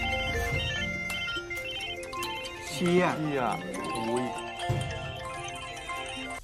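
Phones ring at once as calls arrive from an unknown number, a melodic electronic ringtone of sustained tones playing continuously, with a voice briefly rising over it midway.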